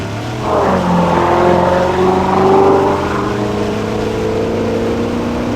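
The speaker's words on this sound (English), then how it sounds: "This 47 Buick can turn 128 miles an hour." Loud engine roar of a 1947 Buick land speed race car driving fast on a dirt lake bed at El Mirage, rising in pitch as it accelerates and then holding a steady drone.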